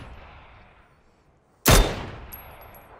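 A single loud, sharp gunshot in the video game PUBG cracks out after a quiet stretch and rings off in a decaying tail.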